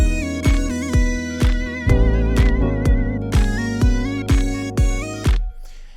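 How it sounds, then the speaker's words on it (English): Music track run through a classic flanger effect, steady thumping beats about every half second beneath bright sustained tones that swirl and sweep, loud and close, ending abruptly. "I'm going to go with a classic flanger that sounds like this."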